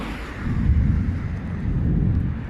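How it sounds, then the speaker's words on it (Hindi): Low rumbling thunder rolls beneath steady rain outdoors in Germany, a continuous deep murmur that swells twice over a couple of seconds with some wind buffeting the microphone. "बादल भी गरज रहा है"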